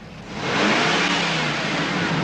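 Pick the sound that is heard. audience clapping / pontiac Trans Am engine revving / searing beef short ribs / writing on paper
pontiac Trans Am engine revving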